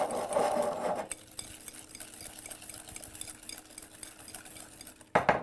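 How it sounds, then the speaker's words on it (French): Egg yolks whisked with sugar in a bowl, a rapid continuous rattling whir of the whisk, louder at the start and again in a brief burst at the end. "Je fouette bien pour pas que le jaune cuise avec le sucre"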